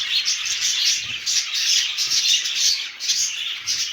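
A flock of budgerigars chatters constantly, high chirps and scratchy squawks overlapping in a busy, nearby cage-like din at a breeding aviary.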